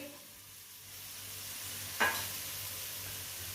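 Dried coconut goes into a pan of ingredients over low heat, giving a soft, steady sizzle and one brief louder scrape or rustle midway.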